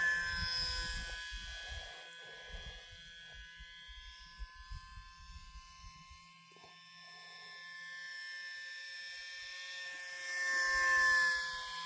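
Park Zone Icon A5 RC plane in flight, a thin electric motor whine rising and fading as it passes, with a louder surge near the end over faint wind noise.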